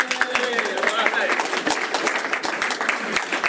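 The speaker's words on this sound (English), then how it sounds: "Wild applause." Audience applause at a community meeting, a dense, lively patter of many hands clapping in a room, loud and sustained, with faint voices underneath.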